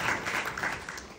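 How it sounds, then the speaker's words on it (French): A seated audience in a hall applauds during a talk by an incubator founder, a brief burst of moderately loud clapping with a few sharper claps near the end. "Ouais, applaudissez-vous"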